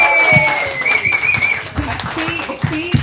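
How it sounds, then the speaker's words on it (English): Audience applause at a live comedy panel show on the Gold Coast, a brief burst of clapping partly blended with a host's voice talking over it. "Can we just get another round of applause for Fee right now,"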